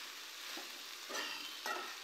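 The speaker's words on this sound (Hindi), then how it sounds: "फ्राई की हुई भिंडियों को अब हम अच्छे से मिक्स करेंगे और 5 मिनट तक हम इन्हें हाई फ्लेम पे" Okra frying over a high flame while being stirred, a steady close sizzle with a few brief scraping stirs, no voices.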